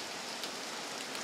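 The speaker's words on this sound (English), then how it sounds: "now the rain is beginning to fall" Rain falls in a shower ahead of a thunderstorm in Brooklyn, New York, a dense, even hiss of drops hitting surfaces, steady and close, with no voices.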